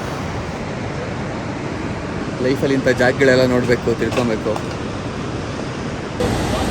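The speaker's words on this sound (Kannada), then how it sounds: "ನೋಡಿ ಗೈಸ್ ಹಂಗೆ ಹೆಂಗೆ ಹರಿತಾ ಇದೆ ನೀರು" A steady, full rush of flowing river water fills the whole clip, with someone talking over it through the middle.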